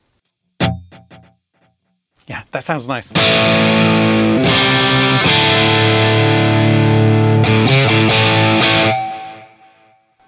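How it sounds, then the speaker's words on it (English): An electric guitar through the tape echo S delay of a Hotone Ampero II Stage multi-effects unit rings out in loud, sustained distorted chords with a trailing echo, after a few short plucked notes and a brief spoken remark. "so I'm going to go with tape echo S here."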